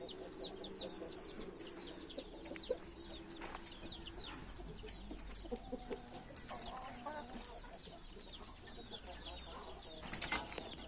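A young chicken clucks and peeps among other farmyard fowl, with repeated soft chirps, occasional wing flapping and quiet background clutter, fairly faint and continuous.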